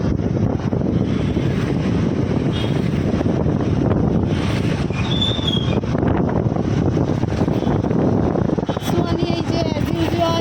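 Steady wind roars and buffets across the whole stretch, a continuous broadband rush with faint voices and mechanical noise underneath.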